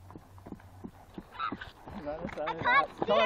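A horse trots on a riding lesson, its hooves clip-clopping in a steady, fairly close rhythm that is clearest at first before voices talk over it.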